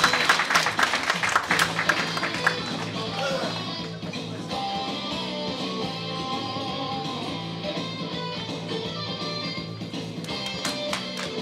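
An audience applauds steadily for several seconds, a dense wash of clapping with a faint musical tone underneath.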